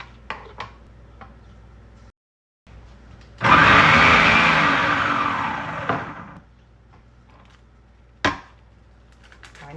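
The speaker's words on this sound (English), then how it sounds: "It's not going to fit like this in the slicer, so I have to slice it up, or just cut it once" An onion cut up on a board for bread and butter pickles: a few sharp knocks, then a loud three-second rush of cutting noise and a single later chop, close by with no talking.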